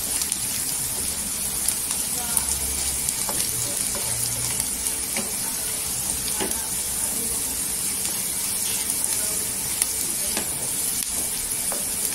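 Garlic and onion frying in hot tempering oil with a spoonful of asafoetida, giving a steady close sizzle and hiss with faint stirring clicks throughout, constant and unbroken.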